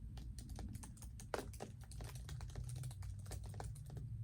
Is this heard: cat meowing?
no